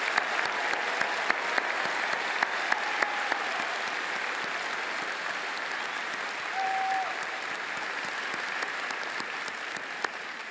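Large audience at the Auburn University fall commencement applauds the new graduates, a steady, dense wash of clapping from a big hall that carries on evenly, with a few sharper claps standing out.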